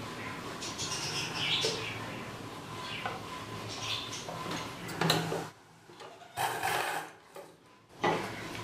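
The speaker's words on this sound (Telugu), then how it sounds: "ఈ డాట్ని స్టార్టింగ్లో హాఫ్ ఇంచ్ ఉండేలా స్టార్ట్ చేసుకొని ఈ చివరకు ఇలా స్ట్రైట్గా కుట్టు వేసుకోవాలి" A sewing machine runs a straight seam on a blouse, with short bursts of rapid mechanical stitching separated by pauses and light handling clicks, close and fairly quiet.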